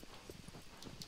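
Hoofbeats of the horse Agro galloping in Shadow of the Colossus, a quick uneven clip-clop of several steps over a steady low game background, with no talk.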